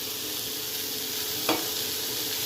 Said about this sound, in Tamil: ஆட் பண்ணி நல்லா மிக்ஸ் பண்ணி விடுங்க.